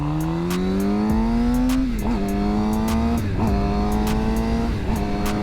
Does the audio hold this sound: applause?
no